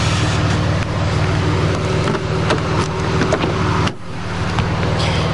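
A 1999 Buick Century engine running after a cold start: a steady, loud idle drone with a brief dip partway through, then settling back to an even hum, with no talk.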